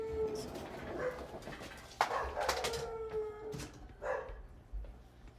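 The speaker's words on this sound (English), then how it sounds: "This is loud ass dog." A loud dog barks and howls somewhere off in the distance, giving several drawn-out yelps and bark bursts over a faint room background, with no talking.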